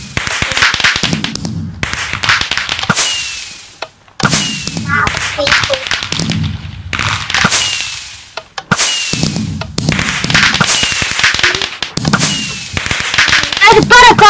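Video-game fireworks pop and crackle in dense, loud volleys, dropping briefly to near silence between bursts while people talk excitedly over them.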